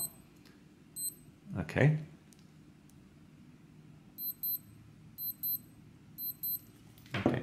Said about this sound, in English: So let me just show you the fake alarm.